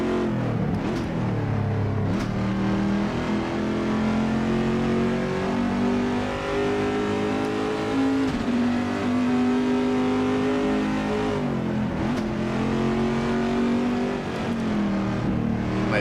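A Corvette C6R race car engine roars continuously at Silverstone in Assetto Corsa, climbing through the revs with brief dips at each gear change, loud and close throughout, with no voices.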